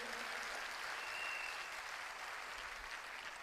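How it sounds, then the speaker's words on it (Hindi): An audience at a business gathering applauds, a soft, distant and steady patter of clapping hands held at low volume throughout. "मैं चाहूंगा एक बार तालियां जोरदार डॉक्टर श्री अशोक भाटिया जी के लिए।"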